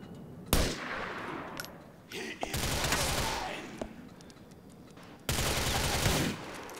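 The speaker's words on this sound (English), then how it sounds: "Who's shooting at me?" Bursts of automatic gunfire crackle in Grand Theft Auto IV gameplay, three sustained volleys of rapid shots separated by short pauses, loud and dense, with a voice speaking amid the shooting.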